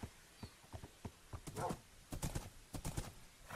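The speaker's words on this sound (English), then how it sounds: "Are you a fast horse?" A horse in a video game clip-clops along in a quick, uneven run of hoofbeats with a short whinny partway through, all quiet and close with no talking.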